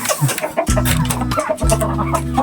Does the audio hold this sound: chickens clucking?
yes